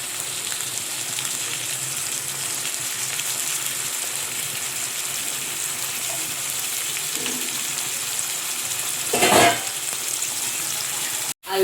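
Green chillies and onions frying in hot oil for chicken curry, a steady loud sizzle with no pause, one brief clatter near the end.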